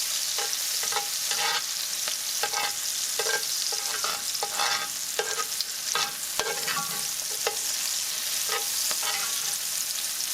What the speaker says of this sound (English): just a quick little saute